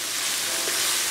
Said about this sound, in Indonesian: Kita tumis sampai wangi.